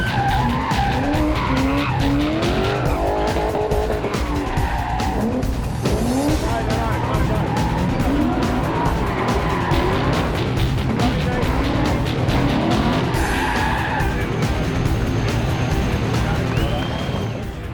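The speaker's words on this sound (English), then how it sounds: "now set to ride in the big red thumper, the big HSV, alongside, you guessed it, Rick Bates." Big red HSV rally car at a 2005 NSW rally round, its engine roaring loud and close throughout with tyres skidding and squealing on the stage, while people talk over the din.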